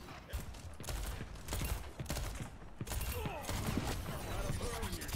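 Cassidy's gunfire in Overwatch 2 crackles in sharp repeated bursts amid busy game effects, with a player talking excitedly through the action.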